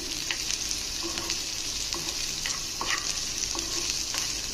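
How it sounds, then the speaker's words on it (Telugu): Small chopped onion pieces fry in a pan with a constant close sizzle. Light stirring scrapes and taps recur throughout, with no voices. "ఇందులో చిన్నగా కట్ చేసుకున్న ఆనియన్ ముక్కలను వేసుకోవాలి పచ్చివాసన పోయే వరకు ఫ్రై చేసుకోవాలండి"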